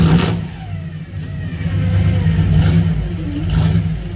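A big-block V8 in a first-generation Ford SVT Lightning pickup rumbles and revs up and down, a deep, steady engine roar close by that rises and falls in several swells, with no talking.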